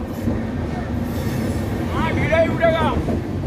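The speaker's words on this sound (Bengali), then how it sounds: "বন্ধুরা, ট্রেন ছেড়ে দিল এখানে 5 মিনিট দাঁড়ানোর পরে খড়গপুর থেকে" Inside the 12074 Bhubaneswar to Howrah express as it pulls out of Kharagpur, a steady rumble of moving carriages fills the clip, with brief high wheel squeals near the end.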